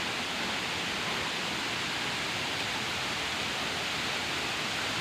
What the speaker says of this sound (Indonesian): destinasi yang kita tuju adalah air terjun Raja Ilang yang berlokasi di Desa Digul